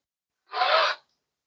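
A rotary cutter slices through fabric with its plastic blade guard still on, making a single brief, close swish of friction. Silence surrounds it on both sides.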